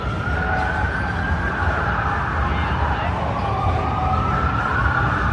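Emergency vehicle sirens wail on a New York City street during a crowded celebration, a continuous rising and falling tone over dense crowd and traffic noise, with people talking in the background.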